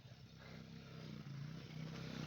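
A motorcycle on a snowy mountain road, its engine hum faint and distant but steadily building as it approaches.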